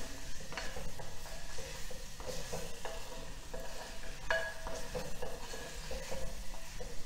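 Sliced onions sauté in a pan for paneer handi, a continuous sizzle broken by repeated scraping and stirring clicks of a spoon against the pan, close and fairly loud, no talking.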